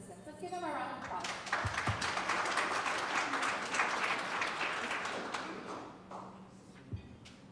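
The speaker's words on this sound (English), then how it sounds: "Let's give them a round of applause." A room of attendees at a chamber of commerce membership meeting gives a round of applause, clapping rising quickly, holding steady, then tapering off with a few stray claps and thumps, some voices mixed in.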